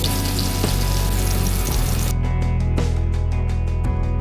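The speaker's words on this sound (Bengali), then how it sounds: "এবার কড়াইতে আরও একটু তেল দিয়ে আলুগুলো দিয়ে নুন, হলুদ ও কাশ্মীরি লঙ্কাগুলো দিয়ে ভেজে তুলে নেব।" Potatoes fry in oil in a kadai with salt, turmeric and Kashmiri chilli, making a loud, continuous sizzle that stays close and steady throughout, with no talking.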